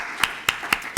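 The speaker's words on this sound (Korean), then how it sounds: "우리 다 같이 한번 박수." A church congregation claps together in four sharp, evenly spaced beats, crisp and moderately near, with no talk over them.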